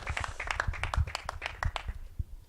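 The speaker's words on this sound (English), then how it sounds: "You should clap even kidogo." Scattered clapping from a small audience at an office opening event in Nairobi, Kenya, a few seconds of uneven, moderately close hand claps that thin out toward the end.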